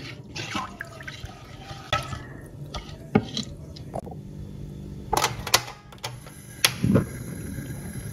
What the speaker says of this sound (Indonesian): Aduk-aduk, pastikan tidak ada bahan-bahan yang mengendap di dasar panci.